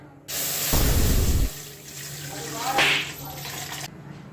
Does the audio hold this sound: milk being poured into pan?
yes